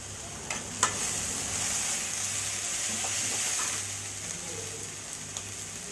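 Onions sautéing in a pan for sambar, a soft continuous sizzle with a few faint scraping taps from stirring and a low steady hum beneath.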